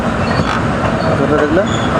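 The Shalimar Express, running between Puri and Shalimar and about two and a half hours late, rumbles steadily as it travels. A constant rail noise fills the scene from start to finish with no breaks.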